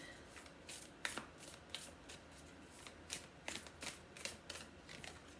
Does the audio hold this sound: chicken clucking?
no